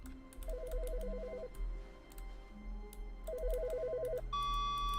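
A telephone rings in two bursts of trilling electronic warble inside The Stanley Parable video game, separated by a pause, with soft ticking and clicks beneath and a steady tone at the end.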